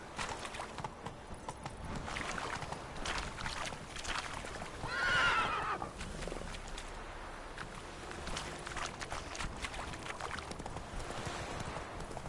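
Roach, a horse in The Witcher 3, gives one short whinny in the middle, rising out of a steady bed of in-game ambience with soft hoof and movement noise.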